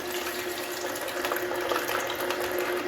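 Water pours steadily into a juicer filled with almonds, a continuous, hissing rush with a faint hum, nearby and even in level throughout.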